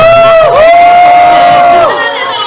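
A large crowd applauds and cheers loudly at a political campaign office opening ceremony, dense clapping and shouts filling the space while a tone sounds over the top.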